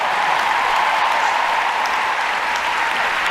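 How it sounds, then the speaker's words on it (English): A large audience of thousands applauds in a sustained, dense wash of clapping that holds steady and loud throughout, with no voices breaking through. "Let's give Brandy a round of applause."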